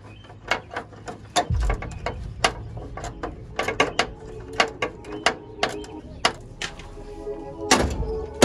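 A trailer jack being ratcheted by hand, giving sharp metallic clicks in an uneven series with occasional heavier clunks, close and distinct over a quiet background.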